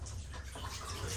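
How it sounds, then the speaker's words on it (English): Water pours out of a tipped Arctic Air Tower cooler in a steady, faint, splashy gush that lasts the whole moment, heard close with no talk. "So the water pours out"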